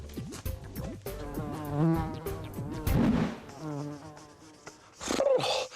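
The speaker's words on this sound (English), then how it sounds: "It's a bee!" A cartoon-style bee buzzing effect in a children's art and craft TV show, a wavering, buzzing drone that swells and fades over about six seconds with bright music-like tones around it.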